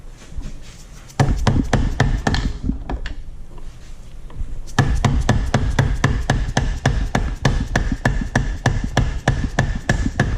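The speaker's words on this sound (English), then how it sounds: "Just need to hammer it out like we were doing." Metal hammer blows ring out against the E30 limited slip differential during disassembly, a short burst of strikes, a brief lull, then a long run of rapid, evenly spaced clanking hits close by.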